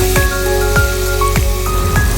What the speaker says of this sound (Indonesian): Aku aduk-aduk sampai wangi.